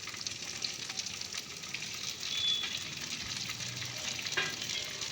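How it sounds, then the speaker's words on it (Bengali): Onion and a large chopped tomato fry together in a pan for a masoor dal tarka, a constant close sizzle broken by stirring scrapes and a few louder crackles. "তো পেঁয়াজ আর টমেটোটাকে আমি খুব ভালো করে ভেজে নেব"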